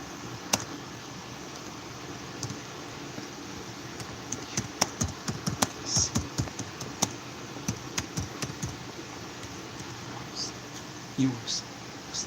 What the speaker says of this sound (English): Yeah, I'm typing right now.